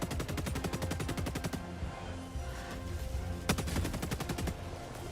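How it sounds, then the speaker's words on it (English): Rapid strafing-run airstrike gunfire in Helldivers 2 rattles out in a dense, evenly spaced burst, pauses briefly, then resumes with another fast volley, loud and close. "Strafing run out."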